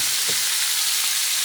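Oil sizzling in a pan while cooking liver with onions, a continuous close hiss with a faint stir, short and unbroken.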